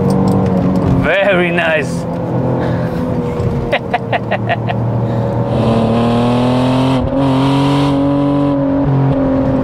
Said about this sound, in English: Hold the throttle, accelerate out.